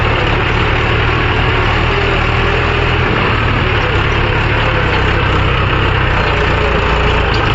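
Heavy loaded tractor engine laboring steadily up a slope while hauling lake soil, a continuous loud low drone with a dense broadband roar and no pauses or speech.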